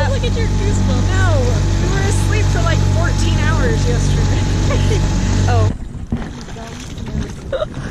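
A motor dinghy runs with a steady low engine drone and wind rush while people talk over it, then the motor noise drops away, leaving wind and water sounds.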